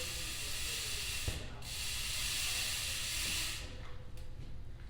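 A rag wiping excess lube off a bike chain, a continuous broad rubbing hiss that swells and eases over a few seconds, close and fairly loud with no talking.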